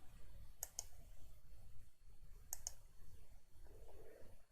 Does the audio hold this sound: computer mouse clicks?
yes